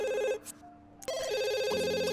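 Telephone ringing in The Sims, a loud electronic ring tone sounding in repeated bursts, briefly cut off near the middle, then ringing again over steady game background sound.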